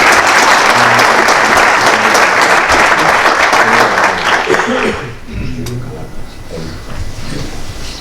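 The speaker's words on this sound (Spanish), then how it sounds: "Pepe, también un aplauso para ti." An audience bursts into loud, dense applause that sustains for several seconds, then drops to scattered clapping while someone speaks over it.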